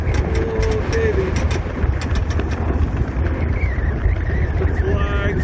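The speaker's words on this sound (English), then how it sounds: "It's windy." Strong wind buffets the microphone with a constant low roar and rumble, while a voice speaks briefly over it.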